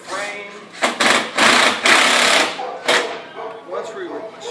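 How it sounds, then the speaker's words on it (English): A power driver whirs in several short bursts as it drives screws through a retrofit window frame, close and fairly loud, each burst lasting about a second with pauses between. "Now we're securing the windows with the screws in several spots through the frame."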